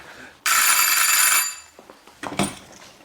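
A telephone bell rings once in a loud, bright burst lasting about a second, followed by faint handling clicks and knocks as the receiver is picked up.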